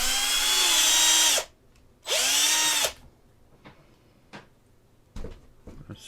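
A power drill boring a pin hole into a resin model kit part, two loud whining bursts of about a second each separated by a pause, then a few faint clicks and handling taps.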